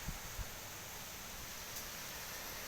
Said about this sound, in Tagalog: Ito ano ang lakas ng hangin, guys.